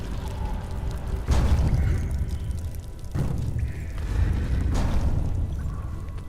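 Grenade blasts in the video game Tomb Raider: Underworld: three heavy, rumbling booms spaced a couple of seconds apart, each swelling over a constant low background roar.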